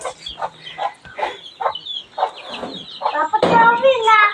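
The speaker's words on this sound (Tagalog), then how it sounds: "may manok" A chicken clucks in short, repeated bursts at close range, with a voice and other talk mixed in toward the end.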